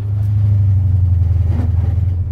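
A Chevrolet Nova with a suspect rear axle drives along, its engine a loud, steady low rumble with a slight pulsing throb throughout and no voices.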